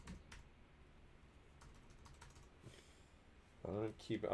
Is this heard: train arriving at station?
no